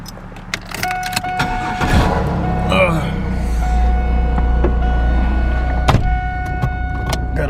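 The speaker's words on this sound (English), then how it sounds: "Gotta put this old Firebird on the side of the road" An old Pontiac Firebird runs with a low engine rumble, with mechanical clicks and a brief whirring noise near the start, while a person talks over it.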